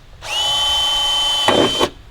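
A power drill bores a pilot hole to mount a toolbox in the bed of a Polaris Ranger. A loud, steady motor whine runs for over a second, then the bit bites in with a brief rough grinding before stopping.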